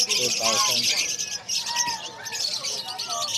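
Pet birds chirp at the Bocaue pet market, with busy overlapping tweets, trills and coos close by, and people talking among them.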